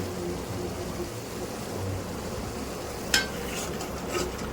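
Steady sizzling and bubbling from a pan, with a spoon scraping and stirring through thick masala gravy for kudal (intestine) kuzhambu and a sharp clink near the end.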